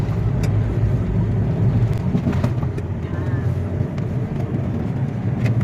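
Heavy road vehicles such as buses pass along a narrow, congested provincial road leading toward San Pablo City, making a steady loud engine rumble with brief higher whooshes of passing traffic throughout.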